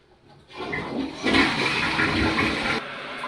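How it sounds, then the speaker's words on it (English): A home toilet flushes loudly and close by, the rushing water surging for a couple of seconds and then cutting off as the tank refills. "so flush the potty"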